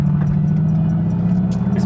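A straight-piped Mercedes G63 AMG driven normally in sport mode, heard as a steady low engine drone with a faint whistling turbo spool above it, close and sustained for a couple of seconds.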